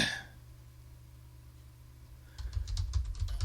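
Keys clatter on a computer keyboard as a message is typed, a quiet stretch giving way to a louder burst of rapid, irregular keystrokes near the end over a low steady hum.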